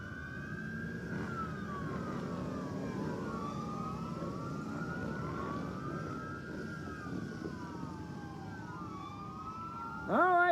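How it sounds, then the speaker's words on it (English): Police highway patrol motorcycle sirens wail in overlapping rising and falling tones at an outdoor thrill show, steady and moderately distant, with a sharper burst near the end. "Here they come, lights and sirens,"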